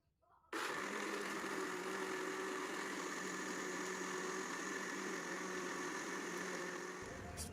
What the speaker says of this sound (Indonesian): kemudian dimasukkan ke dalam blender dan ditambahkan dengan 750 ml air